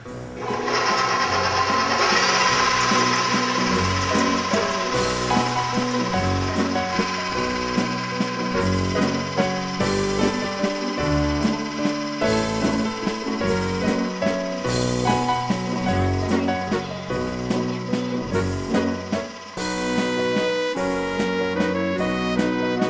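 A stand mixer whirs steadily and loudly as hot syrup is beaten into egg whites for peanut butter nougat, a constant motor drone with rhythmic beating that holds for the full stretch without speech.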